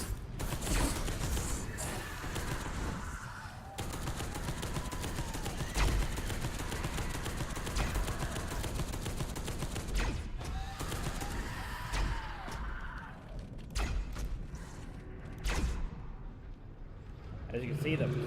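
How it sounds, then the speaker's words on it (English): Bursts of heavy plasma cannon fire and explosions pound repeatedly in a Warhammer 40k: Deathwing battle, with a voice talking over the din. "the plasma cannon does a lot of damage, a lot of explosive damage."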